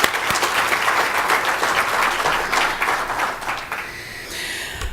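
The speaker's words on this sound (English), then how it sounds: "So if I can get a round of applause for both the board and the sponsors" Sustained applause from an audience, many hands clapping steadily, tapering off slightly toward the end.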